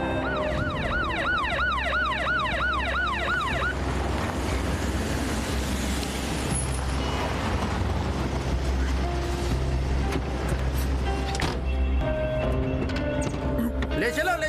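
An ambulance siren wails in a fast repeating two-tone sweep for the first few seconds, loud and close, then cuts off into a dense background of commotion and murmuring voices in a dramatic emergency scene.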